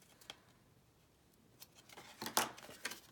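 Small scissors trim a tiny leftover paper piece for a handmade card, making a few quiet, close snips that cluster into sharper crisp cuts toward the end.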